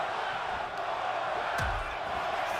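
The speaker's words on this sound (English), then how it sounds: "I think they are chanting one more time" A virtual arena crowd chants during a SmackDown wrestling match in the WWE 2K25 video game, a steady, loud wash of massed voices with one heavy thud partway through and no talk over it.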